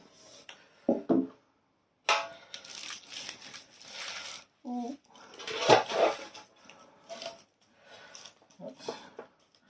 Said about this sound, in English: let me get the air fry basket, we'll get it in there and get it set up